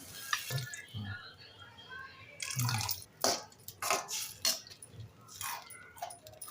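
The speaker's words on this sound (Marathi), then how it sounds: "आता थोडंसं पाणी घालूया" Water is poured into a hot pan of veg Manchurian mixture cooked with red chilli sauce, soy sauce and cardamom, giving close splashing and sputtering bursts that come in uneven surges, with no voices.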